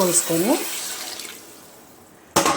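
Water splashes into a pressure cooker pot holding rice and vegetables for pulao. A voice comes first, then a quiet lull, before a sudden loud burst of pouring at the end.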